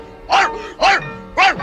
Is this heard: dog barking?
yes